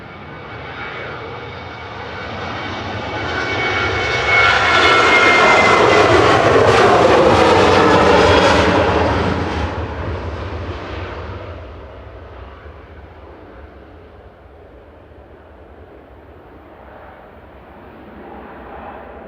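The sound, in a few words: Jet2 passenger jet taking off at Manchester Airport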